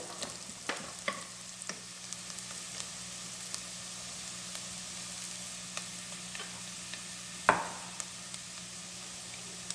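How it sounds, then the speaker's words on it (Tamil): Ingredients frying with a steady sizzle for chicken pepper fry, with intermittent scrapes and knocks of a spoon stirring the pan and one louder clatter partway through; no talking. "இது நல்லா வறுத்துக்கலாங்க."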